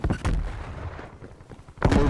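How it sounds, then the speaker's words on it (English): Bursts of gunfire from Call of Duty Cold War, loud cracks at the start and again near the end, with a rumbling, shot-filled stretch between. "Yep, I'm being shot at."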